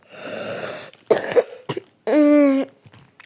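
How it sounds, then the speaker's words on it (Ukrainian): A boy coughs several times close to the microphone: one long harsh cough, then a few short ones, and finally a raspy, wheezing cough. "Я буду трохи кашляти там, де відео я захворів."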